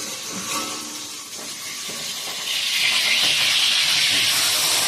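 Hot oil sizzling and spattering in a pan as food cooks at home, a steady bright hiss that swells louder and denser toward the end, close by with no talking.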